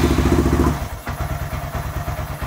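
A Honda Grom motorcycle that has sat unused for a long time starts up, a loud cranking rumble giving way to a steady, pulsing single-cylinder idle with a light mechanical clatter, close by.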